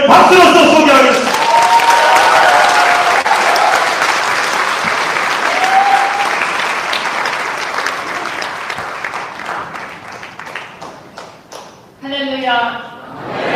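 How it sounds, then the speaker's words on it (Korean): Sustained audience applause fills a lecture hall at a political talk, loud and dense at first, then thinning and fading, before a single voice begins speaking near the end. "이런 의견을 박수로서 소개하겠습니다."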